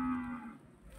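A Simmental cow at a cattle market gives a single short, close moo that fades out within about a second, with no voices over it.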